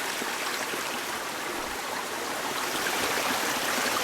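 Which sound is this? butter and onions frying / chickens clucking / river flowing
river flowing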